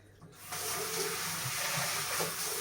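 Tap water runs steadily into a basin while cleaning water is changed during household cleaning, a broad hiss starting after a brief quiet moment and continuing evenly, close by with no talk.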